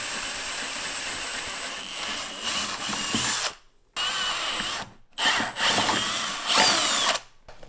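A power drill whines loudly in several bursts, drilling holes through a template on a Suzuki RM250 motorcycle, stopping briefly between holes, then spinning up again with a high, steady motor pitch.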